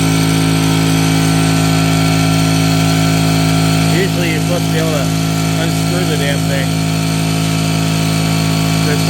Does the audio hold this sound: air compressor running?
yes